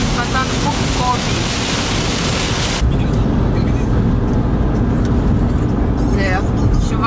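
A car cruises along a highway near Kobe, with steady road and wind roar inside the cabin throughout, the broadband hiss dropping suddenly partway through as the surroundings change, then continuing as a lower rumble.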